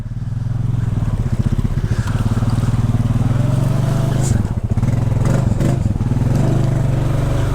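A Honda Rancher 420 ATV pushes through deep water with its exhaust submerged, the engine chugging in a loud pulsing rhythm under gurgling splashes, close up, with a voice shouting over it.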